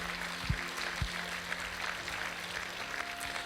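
A church congregation claps together during a worship service, a steady, fairly faint wash of applause with a few louder thumps near the start.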